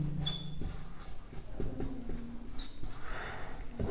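Chalk or marker writing on a classroom board, a run of quick scratchy strokes and taps in an uneven rhythm, close and clear with no talk over it.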